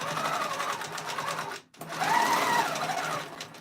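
A sewing machine runs steadily while stitching a flower motif around cross stitch on a quilt, with a brief pause midway before the motor whirs on again, close and fairly loud.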